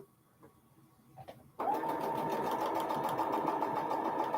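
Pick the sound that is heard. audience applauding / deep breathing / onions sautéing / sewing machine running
sewing machine running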